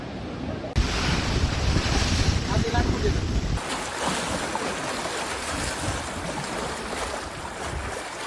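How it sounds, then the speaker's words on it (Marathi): Water pours through the open gates of Jayakwadi dam into the Godavari river during heavy rain, a loud, steady roar of rushing flow with wind buffeting the microphone, the force easing slightly partway through. "धरणातून 6288 क्युसेक वेगाने गोदावरी नदीपात्रात पाण्याचा विसर्ग सुरू आहे"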